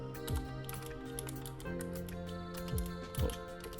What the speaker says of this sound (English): Now let's go back over here and finish typing.